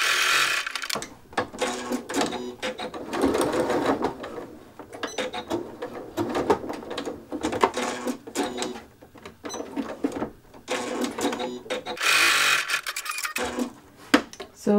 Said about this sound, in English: we're going to take that to the machine and we're going to top stitch both sides along the long edges